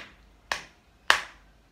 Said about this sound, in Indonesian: tepuk bahu kiri Anda